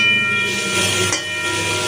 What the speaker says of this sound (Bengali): দেখো, বরবটি বেগুনটা ভাজা হচ্ছে।